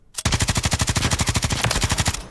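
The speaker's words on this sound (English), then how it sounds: "recoil is pretty easy to control. It's a nice gun to run." Rapid automatic gunfire from a weapon in Call of Duty MW3 Rebirth, one loud continuous burst of evenly spaced shots lasting about two seconds, close and alone with no talk.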